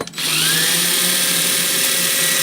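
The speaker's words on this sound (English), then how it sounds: "I'm going to use my drill." A power drill whirs steadily, turning a dulcimer tuning pin to tighten a string, starting with a brief click and then a loud, close, continuous motor whine with no talking.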